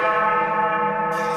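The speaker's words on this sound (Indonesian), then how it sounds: "tepat ketika lonceng tua desa berdentang 12 kali" An old village bell tolls in a single sustained ring, loud and resonant with a rich humming ring that fades slowly, heard alone without voices.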